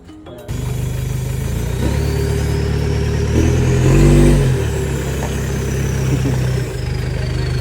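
Toyota Hilux GR Sport with a full straight-pipe exhaust and Borla long tip, idling close by, then revving up in a strong surge and settling back to a rough, rumbling idle.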